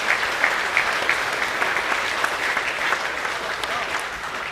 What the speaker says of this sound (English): Please give a final round of applause to our Open Rugby League award winners